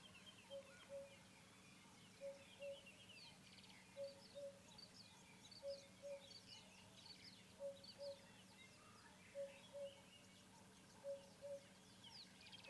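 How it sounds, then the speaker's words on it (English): Cuckoo calling during a sunrise safari drive, a soft repeated two-note call sounding at regular intervals from above, faint against a quiet outdoor background with other distant birdsong. "There's a cuckoo calling above us."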